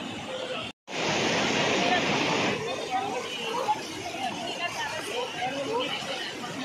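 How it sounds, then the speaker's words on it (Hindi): Sahastradhara waterfall near Dehradun, a popular tourist spot, rushes with a steady broadband roar while a crowd of visitors chatters around it; the noise cuts out briefly near the start, then continues loud and even. "सहस्त्रधारा के झरने को दिखाना, सहस्त्रधारा के वाटरफॉल को दिखाना"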